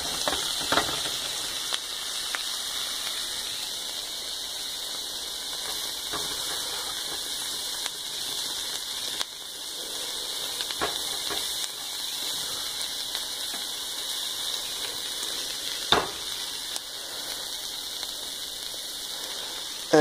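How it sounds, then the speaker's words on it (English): Butter sizzling faintly in a pan while curry goat and shrimp char, a soft, steady crackle like light rain, with occasional sharper pops, distant and low in level. "So I just added a little bit more butter. So it can char some more."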